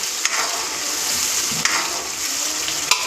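An onion and tomato gravy paste sizzles in a hot pan while paneer chilli is cooked, giving a steady, even frying hiss with a few soft stirring clicks and no voices.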